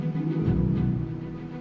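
Orchestral trailer texture in which a staccato viola patch plays with harp. The sound is dense, soft and continuous, with a low rumbling bed and no clear separate attacks.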